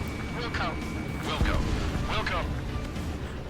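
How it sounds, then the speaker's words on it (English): Fighter jet guns firing in Ace Combat 7, short bursts of rattling shots around the middle with heavy low thumps, set against a steady engine drone and radio voices. "I'm opening fire."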